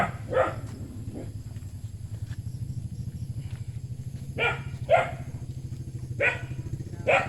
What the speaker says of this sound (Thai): เห่าเพื่อนเลย